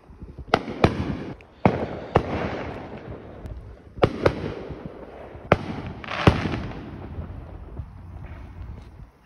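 Fourth of July fireworks burst in a series of sharp, loud booms and crackles, about eight or nine blasts spaced irregularly with rumbling tails between them.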